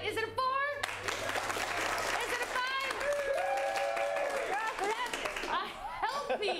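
A group audience claps and cheers amid lively chatter, laughter and whooping voices, the clapping mixed under overlapping talk at a fairly steady level.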